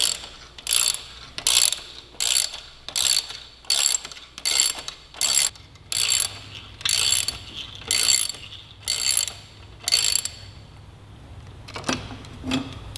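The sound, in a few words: ratchet loosening bolts on Suzuki GSX-R1000 rearsets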